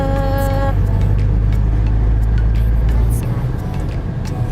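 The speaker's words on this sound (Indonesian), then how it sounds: "Tapi sudah banyak pengendara-pengendara motor dan mobil." Motorbikes and cars pass along a road in Pacet, a cool mountain area. Engine noise rumbles steadily and loudly throughout, with a humming tone from one passing vehicle at the start.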